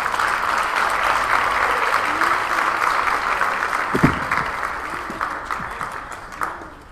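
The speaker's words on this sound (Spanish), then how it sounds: "Denlos un aplauso, por favor" Audience applause at a Mexican gastronomy forum, steady dense clapping from a large crowd that holds for several seconds and then gradually thins out toward the end.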